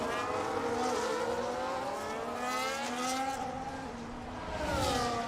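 A Ferrari Formula 1 car in the F1 25 racing game screams down Las Vegas Boulevard in a league race, its high engine whine sustained and loud with rising pitch sweeps as it shifts, and other engines blend in close by.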